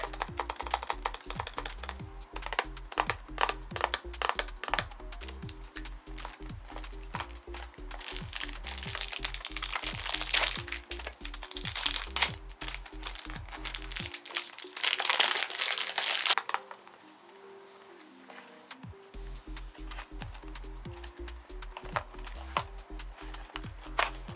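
Close, steady crinkling and rustling of paper and plastic wrapping as Juicy Couture Sparkling Rebel perfume packaging is opened, running continuously with a short quieter stretch partway through.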